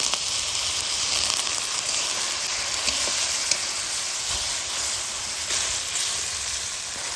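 Water splashed into frying masala of cumin paste, dry chili paste, turmeric and Kashmiri chili powder for mutton chusta, giving a loud, steady hissing sizzle that stays constant with no voices.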